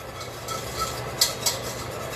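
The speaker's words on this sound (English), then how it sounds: "My whisk. Mix that all together." A whisk stirs flour in a bowl, a soft, steady scraping and swishing with a couple of brighter clinks against the side, quiet and close with no talking.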